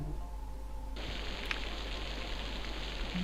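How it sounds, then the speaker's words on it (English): Rain in a video game begins abruptly as a steady, soft hiss of falling drops, continuing evenly after a faint tonal background. "there's the sound of rain"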